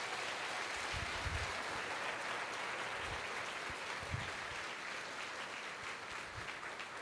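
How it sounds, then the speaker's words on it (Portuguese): A congregation applauding the Virgin Mary during a Catholic religious gathering, a fairly faint, steady wash of clapping heard from some distance, with no talk over it. "vamos aplaudir a Virgem Maria com toda a nossa força"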